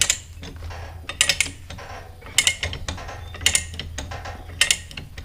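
Ratcheting chain tool being cranked tighter to press a drive motor seal onto a Ditch Witch SK755, with quick bursts of close metallic clicks and pauses between strokes, no voices.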